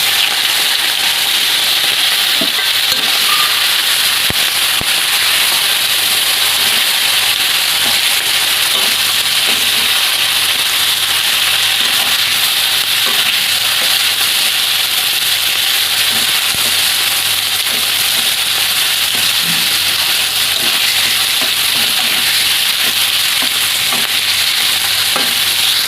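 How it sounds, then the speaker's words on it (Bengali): Marinated prawns fry loudly in hot oil in a pan, a dense, steady sizzle that continues without letup, with occasional soft stirring scrapes and no voices. "এবার ম্যারিনেট করা মাছটা ভেজে দেবো"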